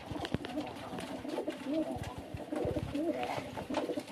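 Ornamental pigeons coo in a loft, with soft repeated low calls close by and wing flaps and shuffling mixed in against quiet background noise.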